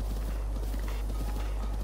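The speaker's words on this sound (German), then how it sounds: "Pferd zu reiten" Horse hooves clop quickly and rhythmically as a horse gallops in the video game Zelda: Breath of the Wild. The hoofbeats are loud and close, with a low rumble underneath.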